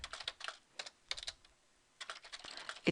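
Keystrokes on a computer keyboard typed in bursts of rapid clicks during a math lecture, close and fairly quiet, with a short pause midway before the typing resumes.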